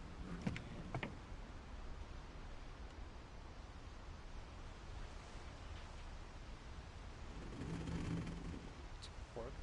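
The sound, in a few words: explosion in a video game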